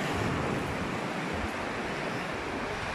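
Steady, dense roar of ocean surf breaking and washing onto the beach at Umdloti, South Africa, with wind buffeting the microphone throughout and no voices.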